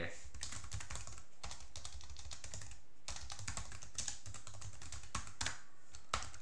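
Rapid computer keyboard typing while a Terraria Calamity game session runs with tModLoader, a dense run of close, crisp key clicks with a short pause midway and faint background sound.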